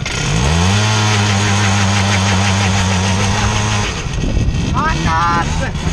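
A moped engine idles loud and close with a steady low throbbing hum, then drops off partway through as voices talk over the running motor.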